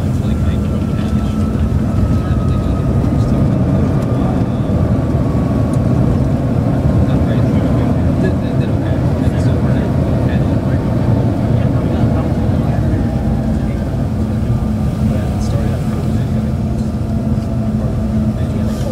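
Airliner cabin after landing at Chicago O'Hare, a continuous broad roar of engines and rolling wheels filling the cabin while taxiing, with a faint steady hum and murmuring voices underneath.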